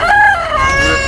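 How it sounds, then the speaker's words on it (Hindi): A Jagiri-breed fighting rooster at a bird market gives one loud, close crowing call with a rising, drawn-out tone, standing alone without speech. "लड़ाई वाला मुर्गा है?"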